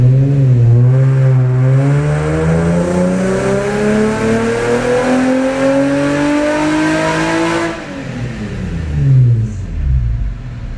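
Car engine on a dynamometer after an ECU flash, loud and continuous, revving in one long rising pull under steady load, then dropping off sharply near the end and briefly blipping again; no talking.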